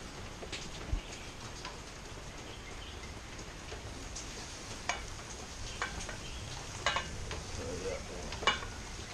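Ribeye steak searing on a hot Big Green Egg grill, a steady soft sizzle with a few sharp pops and crackles spread through, alone with no talk.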